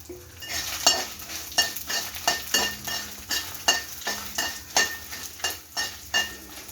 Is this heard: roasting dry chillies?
yes